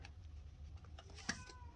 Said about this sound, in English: She's meowing at my door.